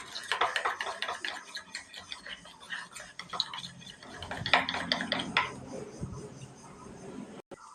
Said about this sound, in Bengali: তেলটা আর ময়দাটা ভালো করে মিশিয়ে